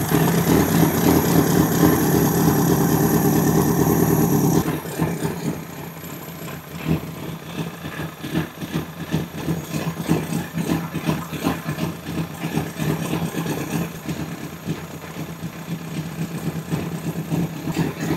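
A used motorcycle engine of unknown condition runs steadily during a possible blown head gasket check. A loud, constant idle hum shifts partway through to a rougher, pulsing, rattly idle, close and continuous, with no talking.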